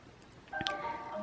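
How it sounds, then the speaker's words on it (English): A phone rings with a short electronic melodic tone, close and moderately loud against a quiet background. "And that's my phone."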